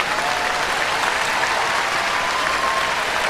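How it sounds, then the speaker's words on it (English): A comedy show crowd in Kenya claps and applauds in a thick, continuous roar of many hands, loud and sustained from start to finish. "Everybody here, clap the way you feel about yourself."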